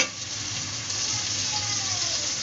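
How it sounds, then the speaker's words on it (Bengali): Ginger garlic paste hits a pan of frying onions and sizzles loudly, a dense unbroken hiss held close for a couple of seconds without any talking. "পেঁয়াজ দিয়ে দিয়েছি, এখন দিয়ে দিব আদা রসুনের পেস্ট।"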